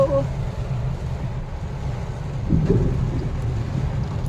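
Steady heavy rain roars as a dense broadband wash while travelling on a road, with a low rumble beneath and a slight swell partway through; no talking.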